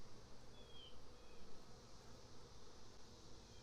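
Honeybees buzzing at an open hive after a super is added, a dense, steady, close drone of many bees with a wavering hum and occasional passing individual buzzes, no voices.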